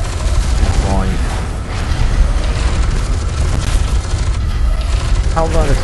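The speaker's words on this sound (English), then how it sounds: "How that explosion is going to kill you" A loud explosion in the shooter video game F.E.A.R. 2 fills the clip as a dense, rumbling roar with sustained debris noise, mixed with game sounds and a voice underneath.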